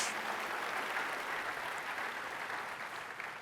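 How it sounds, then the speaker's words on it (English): Audience applause in a large hall during a tech conference opening keynote, a steady dense wash of clapping from many hands that holds level and fades slightly toward the end. "can we please give Tice another round of applause?"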